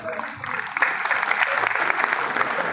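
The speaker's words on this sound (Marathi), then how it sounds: "जोरदार टाळ्या होऊन जाऊ दे" A crowd at a live singing concert applauds steadily throughout, with a bright whistle rising and falling briefly near the start.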